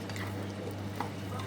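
Vegan food for an Easter lunch is stirred in a frying pan over lowered heat, giving a soft, steady sizzle with faint scraping under a constant low hum.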